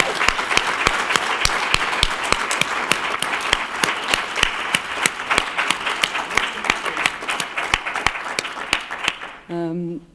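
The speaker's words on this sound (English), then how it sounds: "Can we have a second round of applause?" Conference audience at a public and patient research partnership event breaks into sustained, dense applause that gradually thins, ending with a voice speaking.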